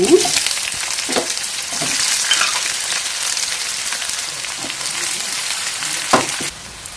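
Cumin and chopped green chillies frying in hot oil, a loud, continuous close sizzle with occasional stirring clinks, ending in a sudden drop to quiet.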